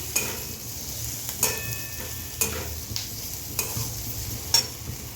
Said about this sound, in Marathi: लसूण, खोबरं, कोथिंबीर, कांदा आणि टोमॅटो हे तिन्ही एकत्र करून चांगलं अजून भाजून घेऊया।